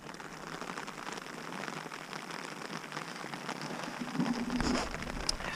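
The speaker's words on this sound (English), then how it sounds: "It's raining kind of as expected" Steady rain pattering on surfaces outdoors along the Bohus Trail in Sweden, a dense continuous hiss with scattered drips, no voices.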